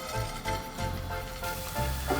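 Food frying in a hot frying pan gives a steady, fairly loud sizzle and crackle that runs unbroken from start to finish, with no voices.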